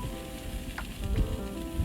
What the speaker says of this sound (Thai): น้ำมันเริ่มร้อนแล้วก็ใส่เห็ดชิตาเกะของเราลงไปผัด